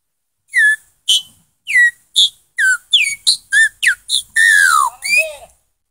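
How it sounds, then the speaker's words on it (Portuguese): Sabiá da praia bird call, whistled as a rapid series of about a dozen short, sharp notes that vary in pitch, ending with a longer downward-sliding note, loud and close with no other sound. "A branca, sabiá da praia."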